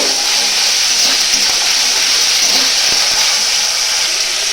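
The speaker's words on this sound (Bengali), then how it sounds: "এগুলোকে ভালো করে একটু ভেজে নেব।" Tomato puree with ginger paste and spices frying in a pan gives a steady, loud, close sizzle that hisses evenly throughout with no pauses, and no one speaks.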